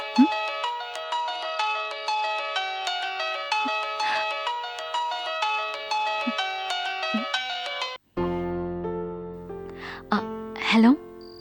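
An incoming-call ringtone chimes in a repeating melodic pattern for about eight seconds, close and clear, then cuts off. Soft music follows as someone speaks briefly.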